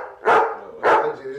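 A dog barks twice indoors, two loud close woofs about half a second apart, with someone talking over and between them.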